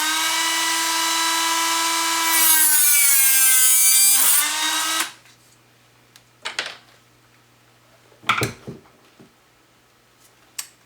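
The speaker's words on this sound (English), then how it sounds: "I'm going to use my Dremel and cut." A Dremel rotary tool cuts a part for a model railway layout, giving a loud, steady high-pitched whine for about five seconds that rises in pitch as it cuts, then stops, followed by a few faint clicks and handling sounds.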